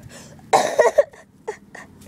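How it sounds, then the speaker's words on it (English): A voice acting out coughs for a Mario plush toy short: one harsh, loud cough burst, then a couple of smaller, shorter hacks. "Excuse me, I have the coughs."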